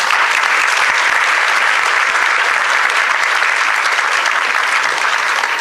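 Loud, sustained applause from a large audience welcoming a speaker onstage, a dense continuous roar of clapping hands at an even level throughout.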